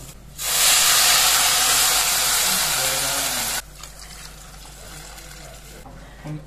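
Water poured into a hot pot of rice bursts into a loud, broad hiss of steam that holds for about three seconds, then drops to a softer simmering bubble.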